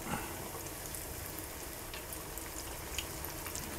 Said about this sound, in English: I want to very carefully lower these into the oil.